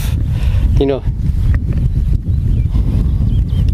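Strong wind buffets the microphone at a wild camp in the Kilpatrick Hills, Scotland, set up with a tarp and bivi bag. The rumble is loud and steady throughout, and someone talks over it.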